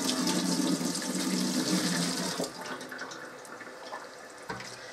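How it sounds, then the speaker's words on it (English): Homemade turkey stock, simmered for about four hours, pours through a strainer as a steady splashing rush of liquid that tapers into lighter trickles and a few drips, close by with no talking. "now all I'm going to do is start straining this"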